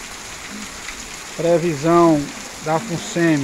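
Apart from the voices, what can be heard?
rain falling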